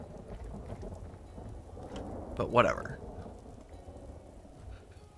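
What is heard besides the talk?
thunderstorm with rain and thunder in video game Vintage Story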